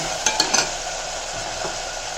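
Tomatoes and salt sautéing in hot oil for a Tamil kara kuzhambu, a steady close sizzle with a few sharp clinks of a spoon stirring against the pan early on.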